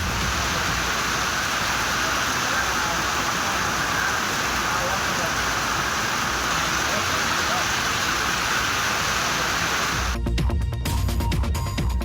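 Steady, dense rain pours continuously and fairly loud in a district of Tamil Nadu, with a rougher, harsher burst near the end.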